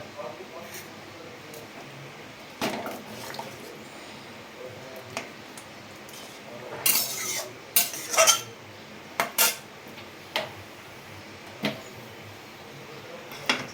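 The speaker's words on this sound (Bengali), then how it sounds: "টক আমটা একটু গেলে দেবো এবারে সিদ্ধ হয়ে গেছে আমটা" Boiled sour green mango being mashed in a pan for a mango and snakehead fish sour dish, heard as scattered clinks and scrapes of a utensil against metal, with a few sharper knocks, close up and moderately loud.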